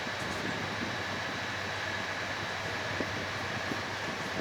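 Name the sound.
inside a moving intercity train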